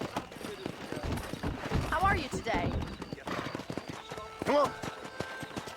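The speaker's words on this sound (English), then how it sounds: "I got my derpy horse" Horse hooves clip-clop in the Red Dead Redemption game, a rhythmic trotting beat with a couple of whinnies, while players talk over the riding.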